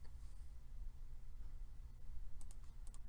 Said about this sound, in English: He's typing something into chat.